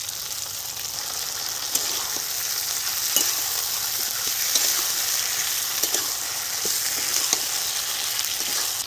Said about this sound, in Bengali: এখন দিয়ে দিচ্ছি টমেটো সর্ষে আদা কাঁচা লঙ্কা বেটে নিয়েছিলাম এটা দিয়ে দিলাম